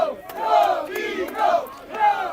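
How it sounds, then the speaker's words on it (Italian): A home crowd at an under-18 elite rugby union match in Rovigo roars and chants in rising and falling swells, loud and close, repeating in waves across the stands with no one speaking. "si accende il tifo qua a Rovigo"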